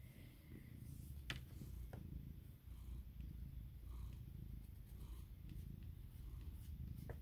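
A cat purrs up close in a steady, low rumbling rhythm, with a few small handling and rustling noises over it.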